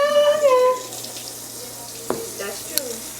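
Tap water running at a sink to rinse a homemade retainer, a close, steady splashing flow with a few small clatters, after a brief burst of voices at the start.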